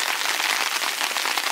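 Heavy thunderstorm rain at Lake of the Woods in Desolation Wilderness, a dense, even hiss of drops pattering close by with no pauses or voices over the short stretch.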